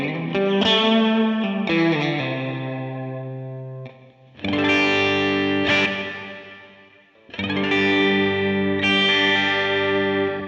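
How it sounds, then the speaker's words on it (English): An electric guitar played through a Line 6 Helix reverb with chorus modulation applied to the reverb tail rings out in three strummed chords, each blooming into a shimmering, wavering wash that slowly decays, close and alone with no talking. "Now let me put the chorus on."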